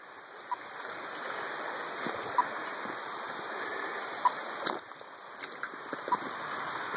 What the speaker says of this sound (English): Look at all these little babbling brooks channeling through.